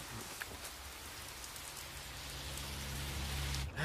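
Steady rain falls outdoors on a cold night, a soft continuous hiss of drops that swells slightly toward the end, with a low rumbling tone entering partway through.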